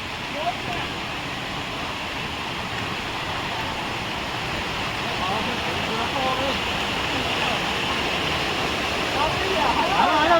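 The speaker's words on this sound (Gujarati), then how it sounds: "જોઈ લો મિત્રો પાણી જાય છે" Water flows and rushes at Jata Shankar, a steady loud broadband roar of a stream or small waterfall that swells slightly toward the end, with no clear speech over it.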